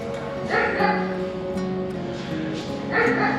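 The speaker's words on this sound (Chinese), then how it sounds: "這邊還有配狗的叫聲。" Recorded dog barking plays at a tea museum exhibit, a few yips and bow-wows in repeated bursts over a steady background hum, moderately loud and close.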